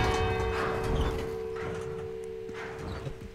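A church bell being moved in Resident Evil 4 Remake gives off a steady, sustained ringing tone over low rumbling and clattering that fades slightly toward the end.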